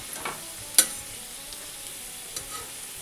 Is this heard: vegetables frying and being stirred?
yes